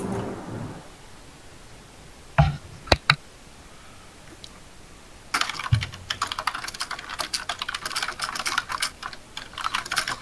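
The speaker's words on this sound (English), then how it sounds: "I hear Kyrath typing furiously" Fast, dense typing on a computer keyboard, a flurry of close clicking keystrokes beginning after a few isolated taps and continuing steadily to the end.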